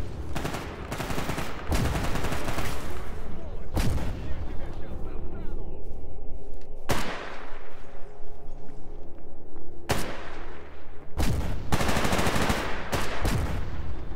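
Rapid bursts of automatic gunfire ring out in the video game Stalker GAMMA, loud and close, with sharp isolated shots breaking through dense stretches of firing across the scene.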